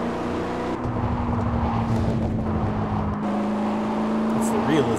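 A Nissan Z race car engine in the Gear.Club Unlimited racing game on Nintendo Switch drones steadily at high revs, shifting pitch as it accelerates, while a person talks over it throughout.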